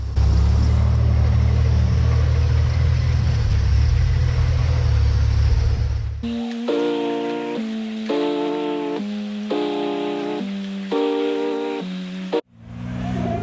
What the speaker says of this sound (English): Look at these girls cruising down the beach in the Can-Am